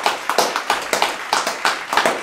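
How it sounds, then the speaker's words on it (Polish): A small group of men claps in quick bursts for the finalists of a breakfast-cereal championship, Europe versus America, the claps close and sharp in uneven clusters. "Wielkie brawa dla finalistów."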